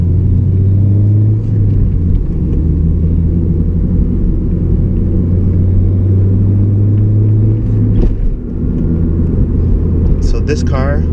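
A 2009 Honda Civic Si fitted with a K&N intake, catback exhaust, throttle body spacer and tune drones loudly from inside the cabin, a steady low engine hum with a rising pitch sweep and a brief shift dip near the end.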